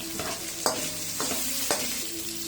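Meat fries in added cooking oil in a pan, a steady hissing sizzle broken by several scraping stirs of a utensil, close and moderately quiet, with no talk.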